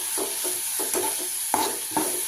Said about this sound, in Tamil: இப்போ இதை கொஞ்சம் வதக்கி விட்டுக்கலாம்.